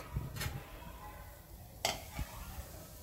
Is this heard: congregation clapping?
no